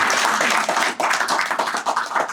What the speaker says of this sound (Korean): 이 친구 박수 한번 쳐주셔야 될까요?